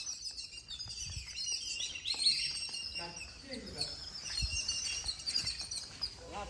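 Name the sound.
sparrows chirping loudly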